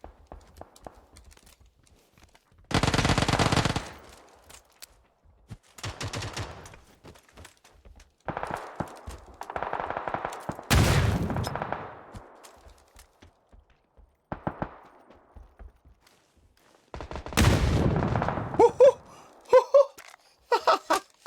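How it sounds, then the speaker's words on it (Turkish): Gunfire erupts from behind a player in PUBG, arriving as several separate loud bursts of shots spread across the stretch, with quieter gaps between them. "Cem şu arkamdan bana pıtır pıtır sıkıyor."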